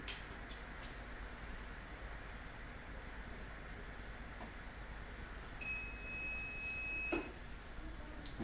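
A Grainfather all-grain brewing machine sounds a single sustained electronic alarm tone for about a second and a half, signalling to add grain, over a quiet humming background.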